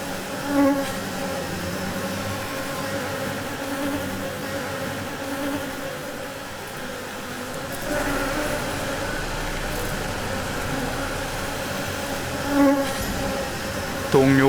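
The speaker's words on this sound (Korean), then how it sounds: "말벌에 대한 집단적인 공격은 동양종 꿀벌에서만 볼 수 있는 현상이다." Asian honeybees swarming in a collective attack on a hornet make a dense, steady buzzing that fills the whole stretch, close and unbroken, with slight swells in intensity.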